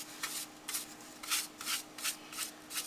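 A hand smooths a paper napkin flat onto a frame, making a steady series of soft, rhythmic rubbing swipes, each a brief papery hiss close by, with a faint constant hum underneath.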